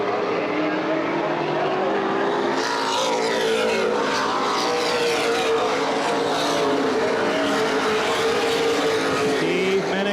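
Late model race cars roar around Baer Field Speedway during the 2011 Gold Cup 75, a loud, continuous wall of engine noise with passing cars rising and falling, trackside commentary running underneath.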